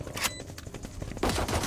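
Rapid bursts of video game gunfire crackle through a short moment of play, a dense volley early on and another heavy burst near the end, loud and up close with no talking over it.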